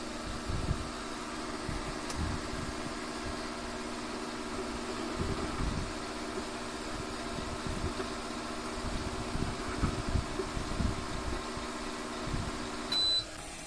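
A microwave oven with a replaced magnetron runs with a steady low hum and buzz for about thirteen seconds, with faint clicks throughout, then shuts off with a short beep.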